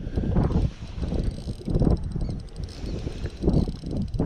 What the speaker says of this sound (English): Can't tell because of the bloody wind.